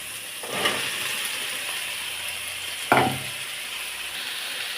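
Okra hits hot oil with onion and tomato in a pan, a loud burst of sizzling at the start and again midway, settling into a continuous fry hiss with stirring.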